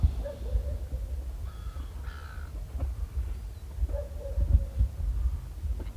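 Crows caw at sunset by the water at Loch Sport, with two or three harsh, moderately distant calls spaced a couple of seconds apart over a low rumbling outdoor background.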